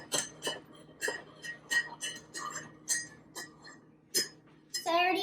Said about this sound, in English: And then stir it.